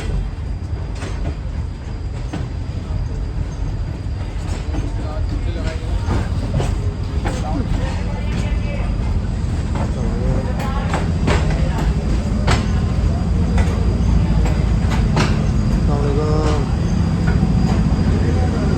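Busy railway station platform as the Shah Hussain Express passenger train stands by, Karachi to Lahore service, with steady loud rumble, carriage clatter and crowd murmur throughout, people talking in the background.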